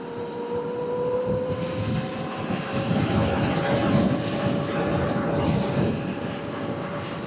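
An electric bike, the Tri XX, climbs a hill at over 40 mph on a cold day, giving a loud, steady whine with a rising tonal hum under heavy wind rush, continuous throughout.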